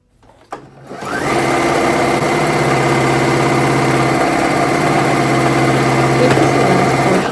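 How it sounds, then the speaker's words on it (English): A sewing machine runs steadily, stitching a curtain rod pocket in sheet fabric, a continuous close whir that starts after a brief click and holds at an even, loud level. "You're going to close that part down, go back and sew over the top."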